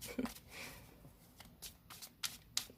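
Tarot cards are shuffled by hand close up, with a run of soft riffling and a few crisp slaps, quiet and uneven over faint room noise.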